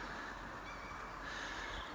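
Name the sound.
birds singing outdoors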